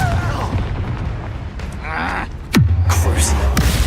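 In Hogwarts Legacy, the Confringo explosion spell gives a descending whooshing sweep that ends in a heavy, close booming blast, with other spell effects crackling before it.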